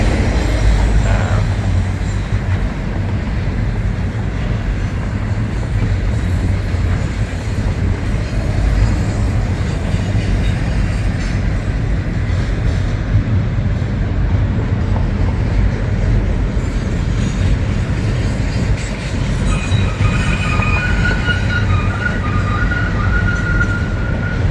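Long freight train of UPS and FEC intermodal containers rolling past near the San Sebastian River bridge, a steady loud rumble with wheel noise and faint squeals throughout.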